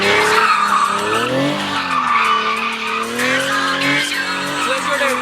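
Nissan 370Z drifting with loud, sustained tire squeal: wavering screeching tones rising and falling continuously over steady engine roar, close and prominent throughout.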